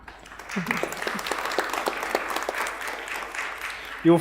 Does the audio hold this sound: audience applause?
yes